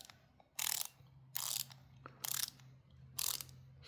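An Arrow ratcheting screwdriver clicks in four short bursts of rapid, crisp ratchet ticks, evenly spaced and close, over a faint low hum with no talking.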